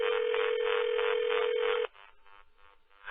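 A telephone ring-back tone sounds loudly for nearly two seconds on a call, its buzzing pulse filtered through a phone line, then drops to faint line noise.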